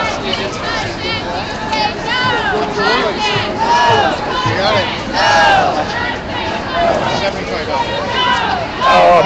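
An energetic crowd at an outdoor Bay Area climate rally, loud overlapping shouts and chanting voices rising and falling in waves, close and continuous throughout.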